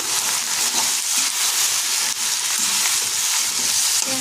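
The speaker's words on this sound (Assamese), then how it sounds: "খুব ভালদৰে এনেদৰে ভাজি থাকিব লাগিব।" Duck meat fries in hot oil in a home kitchen, a steady, dense sizzle and crackle running continuously at close range with faint stirring, no voices.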